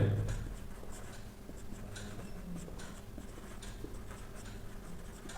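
Writing on a board during a Class 7 maths lesson on ratios and proportion, heard as faint, quiet scratching strokes that continue steadily through a hushed classroom.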